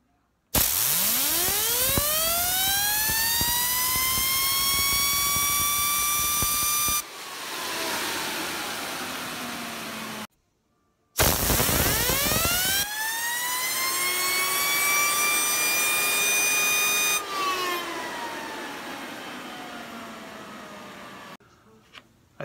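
A JINCOO trispinner fidget spinner spun up during a spin-time test: a loud whine with a hiss rises in pitch and holds steady, then cuts off abruptly. The pattern happens twice, with quieter lingering tones between.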